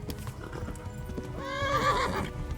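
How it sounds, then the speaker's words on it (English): A horse runs in Kingdom Come: Deliverance with a steady, close clatter of hooves, then lets out a loud whinny in the second half, heard alone without speech. "our horse is getting tired here, so we do have to give him a little bit of a break"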